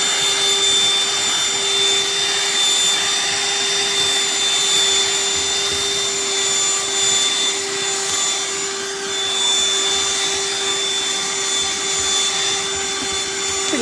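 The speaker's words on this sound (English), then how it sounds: "here's my review for our new little handheld vacuum" A cordless BLACK+DECKER dustbuster handheld vacuum runs steadily, cleaning up bird cage mess such as seed shells and feathers, with a constant high motor whine and airflow rush throughout and no talking.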